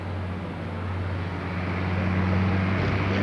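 A 3688 International super stock pulling tractor, Shotgun Red, drags the sled at a 1995 Connersville, Indiana 10,000 lb pro stock pull, giving a loud, steady, unbroken engine roar that swells slightly toward the end with no voices.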